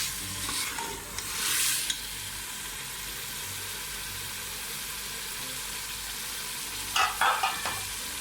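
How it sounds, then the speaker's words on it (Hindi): Chicken tossed with bottle gourd and turmeric in a hot pan for lauki gosht: a steady low sizzle with bursts of stirring scrapes near the start and end, close and alone. "मैंने इसके अंदर चिकन डाल दिया है और इसकी 2 से 3 मिनट के लिए बुनाई कर दी है।"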